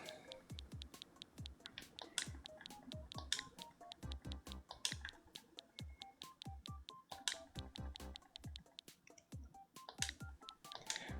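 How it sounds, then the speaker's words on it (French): On-screen keyboard input in the Nintendo game Tomodachi Life gives a quick run of short tonal beeps and clicks, one per key press in an uneven rhythm, quiet and with no talking. "j'allais écrire avec le clavier encore"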